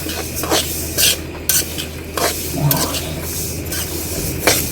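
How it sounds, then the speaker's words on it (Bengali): Mung dal fries in a pan, with soft continuous sizzling broken by several sharp scraping stirs of a spoon against the pan, close and fairly quiet. "তো প্রথমে একটু ভেজে নিতেছি"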